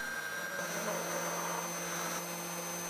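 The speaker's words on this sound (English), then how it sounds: "The router carves the lenses from outside to center position." A CNC router carves a 10mm acrylic lens, a steady close whine with a constant tonal hum and a broad rushing cutting noise that holds without a break.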